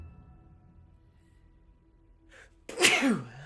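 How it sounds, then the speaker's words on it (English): A single loud sneeze, sharp and close, bursting out after a few seconds of quiet room tone. "I sneezed."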